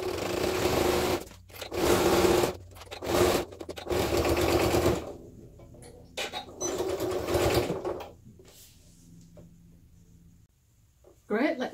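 A sewing machine stitches the second side of a bag seam in several loud, close bursts of rapid needle chatter separated by short pauses, with quiet handling noises in between and a final short burst at the end.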